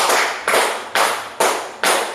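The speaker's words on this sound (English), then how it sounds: "So give 5 claps to Mary Rose." Five sharp bursts of applause come in an even rhythm, each a short round of claps from a group that quickly fades before the next.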